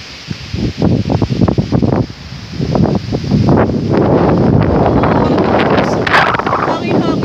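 Wind gusts across the Macritchie Tree Top Walk in Singapore, roaring loudly and buffeting the microphone in uneven bursts. The roar grows stronger and more constant toward the end.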